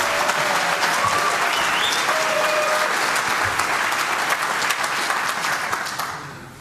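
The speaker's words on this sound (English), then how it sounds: "give him a huge round of applause" A conference audience at the 29C3 lightning talks breaks into loud, dense applause that holds steady and then tapers off near the end, with faint crowd noise underneath.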